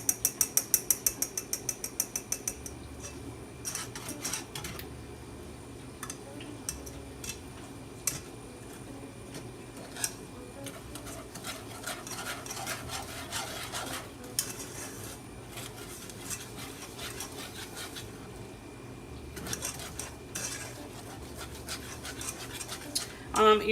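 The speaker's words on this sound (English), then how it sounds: "whisk would, kind of break everything up and blend it a lot better." A whisk beats a breakfast casserole mixture in a bowl, giving fast, repeated metallic clinks and scrapes close up, with some quieter pauses between bursts.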